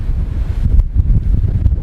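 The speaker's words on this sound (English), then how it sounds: "It's incredibly windy." Heavy, blustery wind roaring and buffeting against the microphone aboard a Trader 535 Sunliner boat, loud and close, with no voices.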